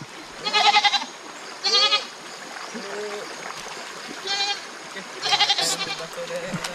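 Goats bleat nervously near water on a rural farm, four loud wavering cries spaced a second or two apart over a running-water hiss, with people talking in between.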